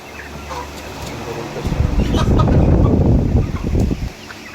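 Chickens cluck and stir nearby in a cattle shed, with a loud burst of flapping and rustling in the middle and a person's voice under the birds.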